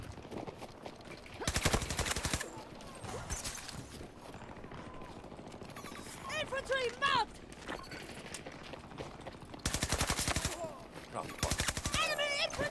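Bursts of rapid automatic gunfire from a video game weapon, loud in two long volleys with shorter shots between, while a player talks over the action.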